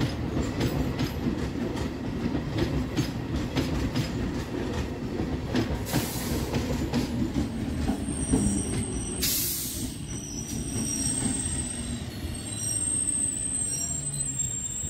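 Tatanagar–Asansol MEMU special train on the move near Purulia, with steady wheel rumble and rhythmic clickety-clack over rail joints throughout, plus occasional brief hissing and squealing bursts.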